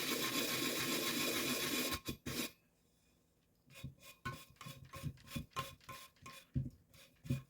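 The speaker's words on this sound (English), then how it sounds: "I'll use a sanding block and just do like this." Steady abrasive rasping for two seconds, a pause, then a series of quick back-and-forth scraping strokes of a sanding block against a tumbler rim, close by.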